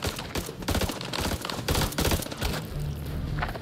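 Rapid bursts of gunfire from the horror video game House of Ashes crackle almost continuously for several seconds, loud and dense with sharp overlapping cracks.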